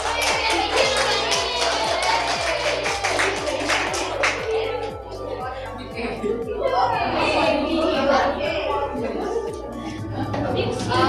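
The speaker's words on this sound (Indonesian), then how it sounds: "Beri tepuk tangan untuk Endang." Classroom of students clapping for a classmate during a micro-teaching science lesson on biotic and abiotic components, with quick, fairly regular claps mixed with lively children's chatter and voices throughout.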